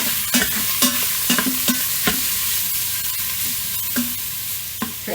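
Italian sausage browning in extra virgin olive oil inside an Instant Pot, with steady sizzling and frequent sharp scrapes and knocks of a utensil stirring against the pot, close up.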